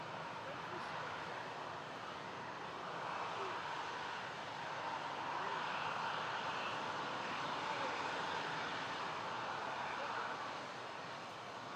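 An airliner engine at Toronto Pearson airport gives off a faint, steady distant roar that swells slightly and then eases, with no clear voices over it.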